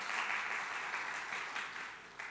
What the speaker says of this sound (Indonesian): Kasih tepuk tangan dulu dong Bapak Ibu.